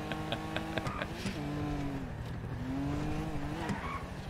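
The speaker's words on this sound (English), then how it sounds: "Hey, the brakes suck on this car, so be careful." Car in a video game driven on poor brakes, engine drone broken by two long tire squeals and skids, moderately loud with no speech.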